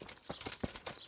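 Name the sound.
horse hooves from the video game Kingdom Come Deliverance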